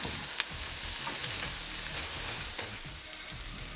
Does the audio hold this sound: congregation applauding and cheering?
no